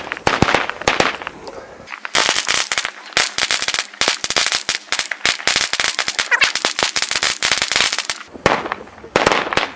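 A long 100,000-shot firecracker chain (ratelband) bursts in a dense, rapid string of sharp loud cracks, with a brief lull near the start and a few final pops at the end.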